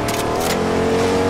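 Car engine in the video game Fortnite, a steady, loud droning rev with a constant low hum filling the short moment, no talk over it.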